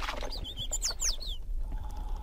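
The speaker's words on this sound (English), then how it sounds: "There are several kinds of birds up here." Birds call on the rim of a Galapagos volcano crater, a few thin rising and falling chirps and whistles over steady wind noise, fading out after a second and a half.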